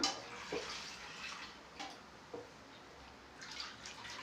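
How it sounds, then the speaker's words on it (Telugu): Water being poured over fish in a bowl to wash it, a faint splashing pour with a few soft splashes and drips, recorded quietly up close. "దీంట్లో ఫ్రెండ్స్ వాటర్ పోసుకుంటున్నాను"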